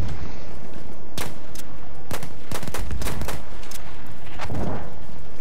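Battlefield 1 multiplayer gunfire, a loud, dense stream of rifle and machine-gun shots in irregular rapid bursts with sharp cracks over a constant rumbling battlefield din.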